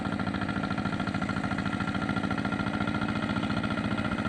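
Engine of a farm machine working a deep, muddy rice field, running steadily with a fast, even pulsing rhythm, close and fairly faint with no voices over it.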